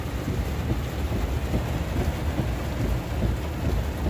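Heavy rain and thunderstorm over an open field, a dense, steady roar of downpour with low rumbling throughout, loud and continuous with no break.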